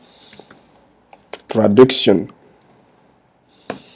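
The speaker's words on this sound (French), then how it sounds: "je vais taper ici tout simplement Traduction" A few scattered computer keyboard taps, faint and sparse, with a short burst of speech in the middle and a sharper click near the end.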